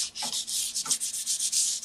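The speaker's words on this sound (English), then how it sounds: "I'm going to give the whole frame a good sand on all its edges." Sandpaper rubbed briskly along the edges and ridges of a gesso-coated wooden frame prepared for water gilding, a close, steady rasping in quick back-and-forth strokes with no talk.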